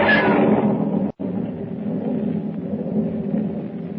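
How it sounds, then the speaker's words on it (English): Thunder crashes in a storm as a radio drama sound effect: a loud opening crack, then a deep rolling rumble that carries on, broken by a brief gap, with no voices. "Lightning cleaves the black sky and thunder crashes as Pug"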